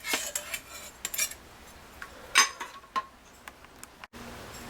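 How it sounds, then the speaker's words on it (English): A spoon stirs shrimp bisque in a pot, giving scattered metallic clinks and scrapes against the pot, fairly close and mid-loud, in an irregular rhythm. "And you stir that up a bit."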